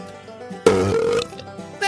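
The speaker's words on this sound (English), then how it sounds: "There's the Undercountry Music News Wet Belch of the Week we've all been waiting for." A wet, gurgling belch played as a sound effect, loud and drawn out for about half a second over faint background music, standing alone without talk.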